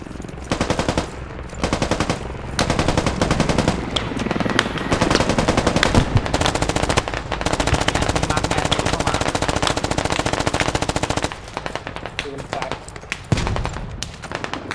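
Rapid automatic gunfire in the military shooter Squad, dense bursts of close machine-gun fire crackling almost continuously with brief pauses, under occasional voices talking.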